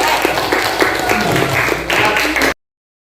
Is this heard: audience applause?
yes